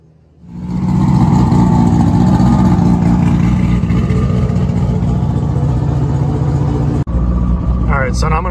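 A car with a V160 manual transmission converted to use a torque converter, its engine running loud and steady from start to finish with a deep, continuous drone that dips for a moment near the end.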